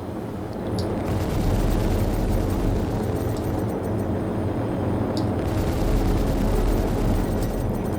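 Rapid, sustained weapon fire from spaceship guns in a space-combat game, aimed at the lowered ramp of an F7C MkII-type ship: a dense, continuous roar of bursts and explosions for nearly the whole stretch, loud and unbroken with no talk.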